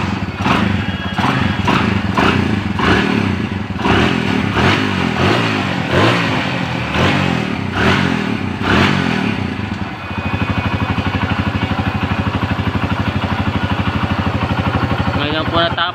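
Repaired motorcycle engine started and running close by, loud uneven revving at first that settles into a steady fast idle putter, with a mechanic talking over it.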